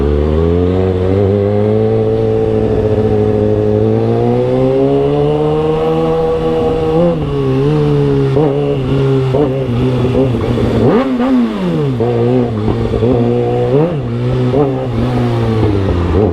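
A big bike motorcycle being ridden, its engine droning loud and close throughout with steady revving that rises and falls as speed changes, with no talking over it.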